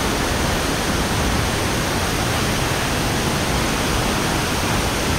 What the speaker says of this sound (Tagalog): Solid ang Mother Falls ng Baler.